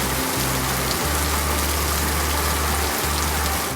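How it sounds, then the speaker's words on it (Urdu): Heavy rain pouring down in Lahore during a thunderstorm, a dense, loud, unbroken hiss with a low engine-like rumble underneath throughout. "تیز بارش کے ساتھ ٹھنڈی ہواؤں کے جھونکوں نے موسم کو مزید دلکش بنا دیا۔"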